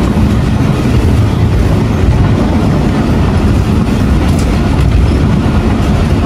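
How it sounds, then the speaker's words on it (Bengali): A passenger train in Pakistan runs toward Karachi through fields, heard from inside as a loud, continuous rumbling roar of wheels and carriages with no break across the whole stretch. "ট্রেন ছুটে চলছে করাচির উদ্দেশ্যে"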